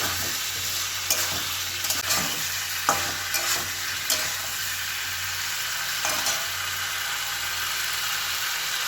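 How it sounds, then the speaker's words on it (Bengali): Spices and young jackfruit stir-fried in a wok for a vegetarian dish, a steady close sizzle with repeated scraping strokes of a spatula against the pan, no voices. "মশলাটা এবার একটু কষে নিই খানিকক্ষণ। এঁচোড়গুলো দিয়ে দিয়েছি।"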